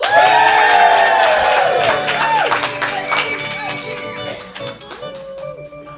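A live comedy-show audience cheers and whoops loudly, with shouts fading over several seconds while a voice calls out over the noise.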